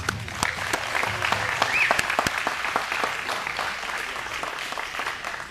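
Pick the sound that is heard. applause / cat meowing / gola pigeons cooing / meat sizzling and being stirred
applause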